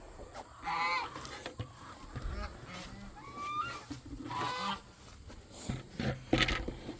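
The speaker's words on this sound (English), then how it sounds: "I have no way of making them be quiet." Geese honk repeatedly at an outdoor feeding spot with ducks near water, the loud calls coming in bursts over ongoing background noise.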